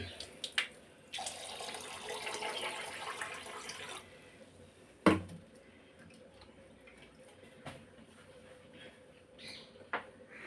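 Rice being rinsed under running water from a tap, a steady broad splash of flow for a few seconds then easing to quieter trickling and sink sounds, with an occasional sharp knock, no talking.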